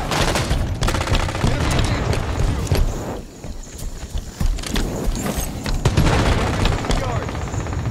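Rapid gunfire in the Halo 5 Guardians beta multiplayer, dense automatic bursts and booms packed together at a constant loud level, with game announcer voice callouts and other effects mixed in.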